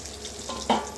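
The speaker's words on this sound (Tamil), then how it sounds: "இதோ கத்திரிக்காய் இப்போ தான் போட்டிருக்கேன், வதக்கிட்டு பொரியல் செய்யணும்" Brinjal pieces sautéing in a pan for poriyal in a home kitchen: a steady soft sizzle and frying crackle, with a brief louder stir or hiss near the end.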